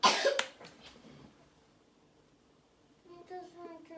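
A child's short cough bursts out at the start, followed by quiet rustling and then faint speech-like sounds near the end.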